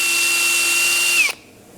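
An electric drill with a 4.5mm bit whirs at a steady high pitch close by, drilling into a spade's D-handle, winds down briefly and stops abruptly, leaving near silence.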